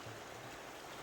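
A river rushing steadily past a snowy winter bank, a continuous broadband wash of flowing water, close and unbroken, with no voices.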